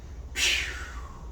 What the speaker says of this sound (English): My spring brakes gonna pop out.